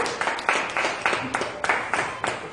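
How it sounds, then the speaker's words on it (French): Church congregation clapping in bursts, a moderately near group applauding with uneven, pulsing rhythm over a short stretch, with no words spoken. "Est-ce qu'on peut donner une acclamation à notre Dieu?"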